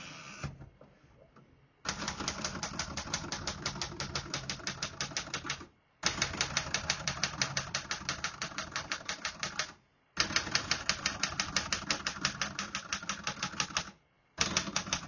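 Rapid mechanical keystrokes from a 1960s Remington Personal-Riter portable manual typewriter clatter in long bursts, broken by brief pauses, close and steady with no voices.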